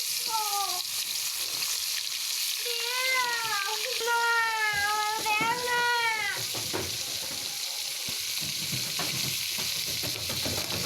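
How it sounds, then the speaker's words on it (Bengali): Hot oil hisses and sizzles steadily in a kadai where shrimp and small fish are being fried. A cat meows several times over the frying, and faint handling noises come from the pan. "ভালো করে লাড়া দিয়ে পরে আমি মাছগুলো সব দিয়ে দিব।"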